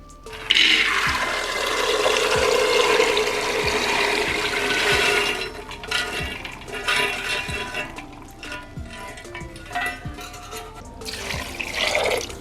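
Tap water gushing into a cooking pot for boiling chana, a loud steady splashing rush for about five seconds, then a thinner, uneven trickle with drips and clinks.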